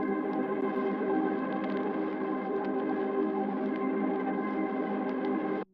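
Three layered Horror Box 3 Lite horror textures sound together as one thick, steady, distorted drone with a slight shimmer, sustained at an even level for over five seconds and then abruptly stopping.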